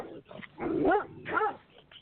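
A neighbor's dog barks nearby, a few loud, whiny, yelping barks in quick succession, heard clearly with no talking.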